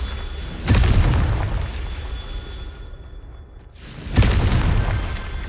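Hogwarts Legacy Confringo spell blasts: two loud booming explosions a few seconds apart, each a sharp heavy burst with a rumbling tail, a brief near-silence between them.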